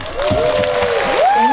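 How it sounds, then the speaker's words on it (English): A conference audience at an early childhood education leadership event breaks into applause, sustained clapping with a few vocal whoops over the crowd noise. "can I hear a round of applause?"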